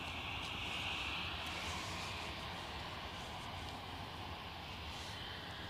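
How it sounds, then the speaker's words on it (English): An EasyJet airliner inbound from London Gatwick roars steadily at Edinburgh Airport, a broad continuous jet rumble heard from a distance with faint wind noise. "EasyJet on shot, inbound from London Gatwick"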